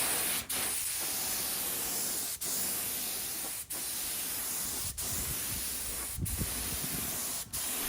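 Paint sprayer applying primer to furniture in a long continuous hissing spray, broken by about six very short pauses, close and fairly steady throughout.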